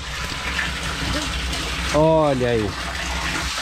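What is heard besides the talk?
water flowing again from the water tank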